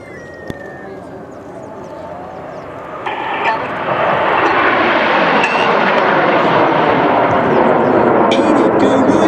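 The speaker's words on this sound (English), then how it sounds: "We're now going to change the tempo of the display as we show you how this jet can perform." Red Arrows display jets at the 2013 Malta Airshow pass overhead. A faint engine hum swells into a loud, sustained roaring rush that holds steady to the end, with an announcer's voice over the jet noise.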